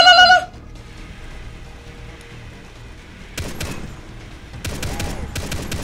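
Gunfire erupts in Far Cry 3 from a mounted gun: after a brief tonal sound, a quiet stretch gives way to loud, rapid bursts of shots in two volleys, close and sharp.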